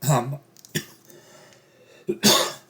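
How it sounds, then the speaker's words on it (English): A few sharp, close coughs in quick bursts, separated by short pauses. "Wonder if I'll edit out the cough."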